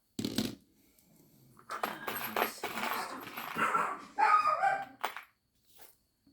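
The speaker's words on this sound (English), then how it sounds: "My dogs decided to chase the cat." Several pet dogs barking and scuffling indoors as they chase a cat, with sharp barks, yelps and clattering in uneven bursts that end in near silence.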